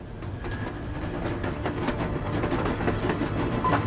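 A railway handcar rolls along tracks in Metro Exodus, a steady clattering rumble with rhythmic wheel clicks over the rails, continuous and fairly close, with no talk.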